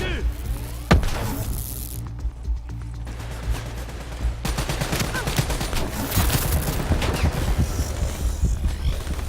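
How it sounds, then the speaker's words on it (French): Gunfire in the video game Call of Duty: Black Ops III, with loud, dense bursts of automatic fire and booming impacts that run nearly continuously, while voices and game effects sound over the shooting. "On nous tire dessus!"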